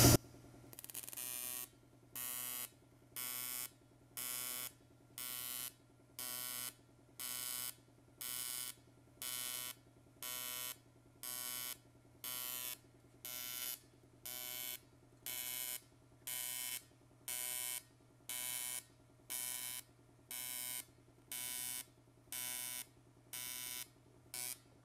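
Stitch-welding steel on an Austin Healey shroud gives a steady series of about twenty short electric buzzing bursts, each about half a second, evenly spaced with brief gaps, fairly faint and with no voices.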